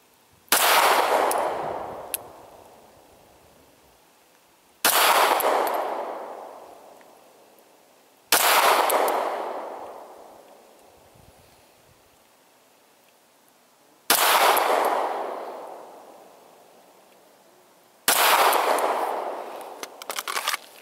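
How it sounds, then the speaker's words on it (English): Five slow, evenly spaced pistol gunshots during target practice, each a sharp loud crack with a long decaying echo, spaced roughly four seconds apart, with no talking. "You can see how slowly and deliberately I'm shooting."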